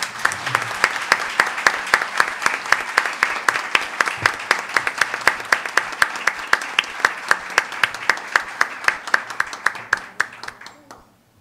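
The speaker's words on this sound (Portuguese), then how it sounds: "Uma salva de palmas para elas." Lecture audience clapping after a speaker's introduction: sharp, evenly spaced claps in a steady rhythm, near and fairly loud, keeping up for about ten seconds before thinning and fading out.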